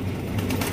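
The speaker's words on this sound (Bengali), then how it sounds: "এখানে রয়েছে একজন রেড কালারের জার্মান শিল্ড কবুতর দেখতেই পাচ্ছেন" A red German shield pigeon coos briefly, low and muffled, under a constant background hum.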